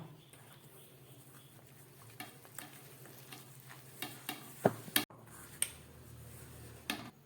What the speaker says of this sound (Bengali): একটু একটু করে দুধ দিয়ে এই ময়দাটাকে খুব ভালো করে মেখে নেব